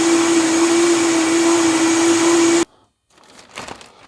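An electric mixer blending RG Bouillette base mix with hemp seed for carp bait, a loud steady high whine with a strong constant tone that cuts off abruptly, followed by faint rustling and handling noise.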